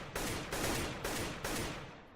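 Four evenly spaced, loud gunshots from a shooter game, about half a second apart, each a dense crack that rings briefly before the next, with no talk.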